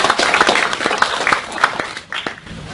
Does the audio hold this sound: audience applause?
yes